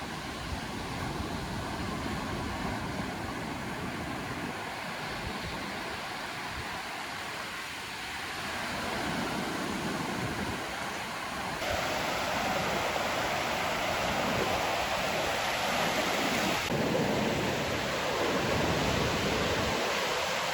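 Ocean waves wash onto the sand at Horseneck Beach, Massachusetts, making a soft, steady hiss of surf that swells slightly at times and stays fairly quiet and distant.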